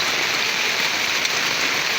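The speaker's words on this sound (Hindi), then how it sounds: "बारिश का माहौल देखो दोस्तों।" Steady, dense rainfall pattering on surfaces, a constant hiss with no pauses and no voices.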